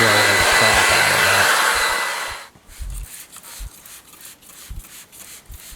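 A loud air blower roars steadily while clearing debris from the front bumper area of a Chevrolet Malibu, then cuts off abruptly, followed by a few soft knocks and thumps against a faint background.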